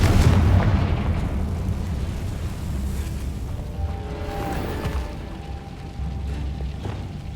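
Confringo blast spell from Hogwarts Legacy, a heavy booming explosion at the start that rolls off into a long rumbling decay, with faint tonal game sounds lingering afterward.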